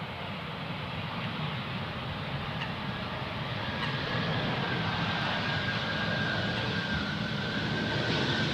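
KLM airliner arriving from Bologna, landing on runway 18R at Amsterdam Schiphol, a steady broad engine roar that holds and slowly swells, heard from outside at a moderate distance with no voices.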